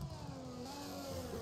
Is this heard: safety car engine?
yes